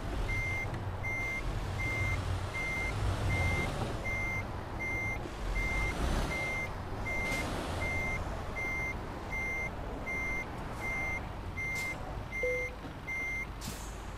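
A truck in Euro Truck Simulator 2 backs into a parking spot, its reversing alarm repeating a steady, evenly spaced beep over the low rumble of the idling engine, with a short hiss of air brakes.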